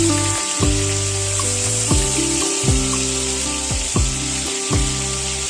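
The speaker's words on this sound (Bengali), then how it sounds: "ওই তেলেই আমি ফুলকপিগুলোকে একটু লালচে করে ভেজে নেব।" Cauliflower florets frying in hot oil for a Bengali prawn and cauliflower curry, a loud steady sizzle filling the background with repeated low knocks and clatter from the pan and utensils, no talking.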